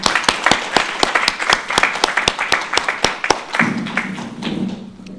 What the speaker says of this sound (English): Let's just take a moment and applaud this amazing achievement